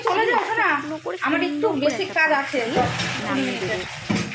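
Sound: stirring kai fish after pouring in mustard oil

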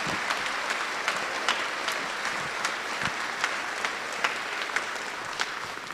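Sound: audience applause at a holiday concert

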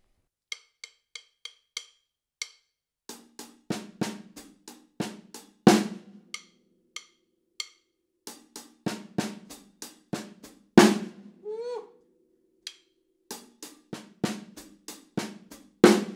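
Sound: slow drum groove with hi-hat doubles

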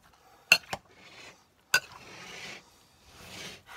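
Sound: mixing Texas cowboy bean caviar dip in a bowl

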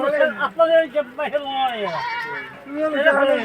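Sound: goat bleating

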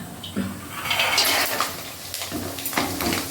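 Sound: adding peanuts to pan while cooking

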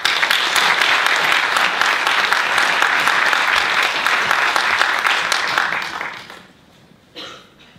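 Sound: theatre audience applause

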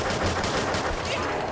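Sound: gunfire from a weak gun in a zombies video game

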